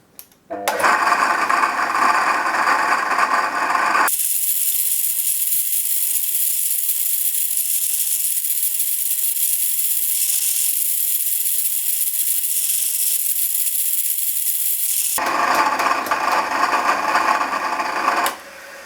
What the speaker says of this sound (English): we can now drill our 4 oil feed holes